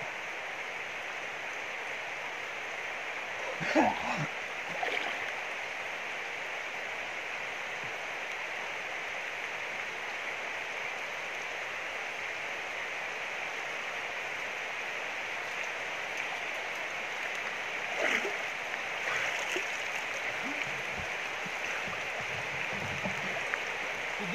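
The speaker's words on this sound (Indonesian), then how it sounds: "Oke teman-teman, hujan deras turun." A steady, dense hiss of heavy rain pours without pause, with a few brief louder splashes or bumps along the way.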